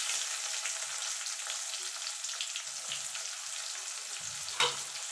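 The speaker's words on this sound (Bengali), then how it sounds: "পেঁয়াজটাকে একটু ভাজা ভাজা করে নেব" A medium-sized onion frying in a pan of hot oil with tempering spices gives a steady close sizzle, with occasional soft stirring knocks and one sharper clink near the end.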